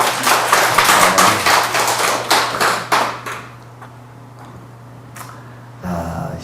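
A church congregation clapping for two members, brisk close applause for about three seconds that thins to a few scattered claps, then a quiet pause before a brief burst of sound.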